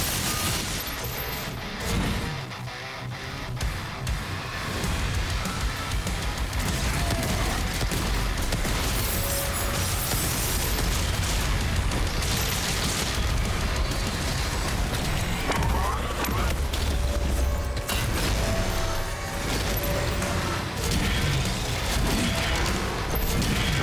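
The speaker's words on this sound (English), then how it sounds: "Oh, what is with this rocket launcher?" A rocket launcher firing in Doom: The Dark Ages: a dense, continuous battle din of repeated blasts, booms and crashing impacts, loud throughout with barely any pause.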